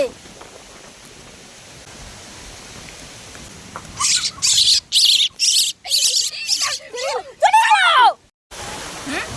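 Baby birds that fell from the nest during a storm squawk in a run of sharp, shrill bursts, growing more chirpy toward the end before cutting off, with faint voices in the background.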